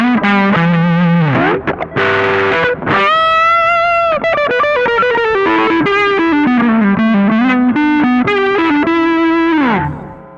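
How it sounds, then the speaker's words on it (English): A loud, buzzy distorted electric guitar line with bending, sliding notes and a thick fuzzy saturated tone, played alone up close. "It's a fuzz, man. It sounds really cool."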